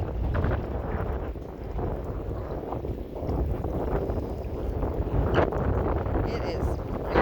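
Strong wind blows across a farm where cows stand outdoors, buffeting the microphone with a loud, continuous low roar that swells and dips in gusts.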